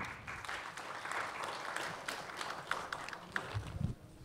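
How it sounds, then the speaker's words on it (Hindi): An audience at a poetry mushaira applauds steadily, a soft continuous patter of clapping that thins near the end with a few louder claps. "आपकी ज़ोरदार तालियों के बीच"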